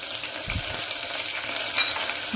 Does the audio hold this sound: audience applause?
no